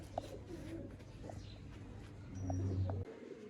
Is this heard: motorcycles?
no